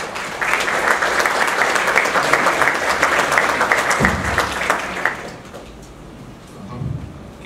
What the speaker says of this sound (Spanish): Recibamos a Carlos con un caluroso aplauso.